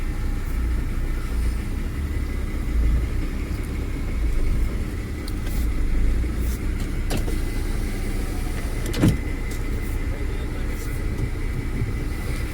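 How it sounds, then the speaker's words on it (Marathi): A car pulls slowly forward, a steady low rumble of engine and road noise running throughout at close range, with a brief sharper knock partway through. "गाडी काढूयात. पुढे घेऊया गाडी."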